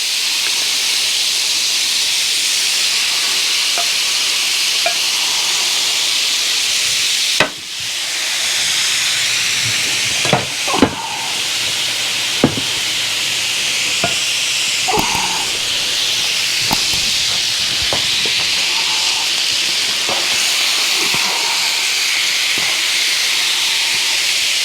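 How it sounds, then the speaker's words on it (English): Fajitas sizzle on an electric Blackstone griddle greased with a little oil, giving a steady, bright hiss that runs throughout with occasional pops and clicks from the cooking. "Oh, listen to that sizzle."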